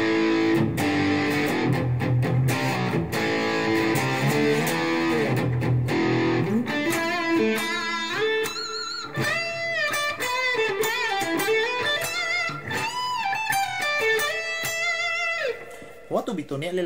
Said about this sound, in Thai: ต่อไปเสียงแตกนะครับมาที่ตัวบิดกันเลย